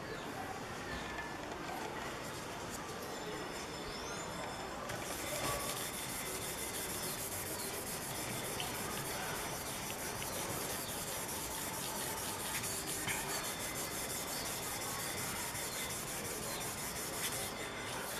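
Steady sandpaper rubbing on a Heartfield by Fender guitar body during a refinish, a continuous dry scraping that runs the whole time at close range with no pauses and no speech.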